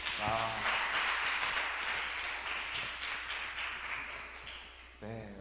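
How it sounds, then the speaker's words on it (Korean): Applause from a church seminar congregation during a Sunday service, a broad steady wash of clapping that holds for about five seconds and then fades, with a voice briefly cutting in at the end. "박수 한번."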